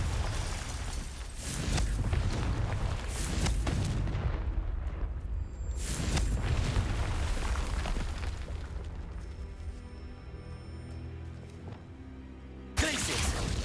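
Explosive bursts from the Confringo fire spell being cast in a Harry Potter video game, several loud booming blasts with crackling tails, a short pause, then another sharp burst near the end.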